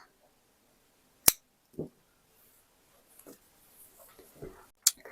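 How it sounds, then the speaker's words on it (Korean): Scissors snip knitting yarn during work on a child's round-neck vest: two sharp, close cuts spaced a few seconds apart in a quiet room, with soft handling rustles between them. "실을 적당한 길이로 잘라주세요"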